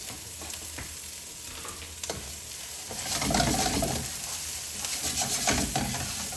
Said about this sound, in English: So we're just infusing oil here, making this real fragrant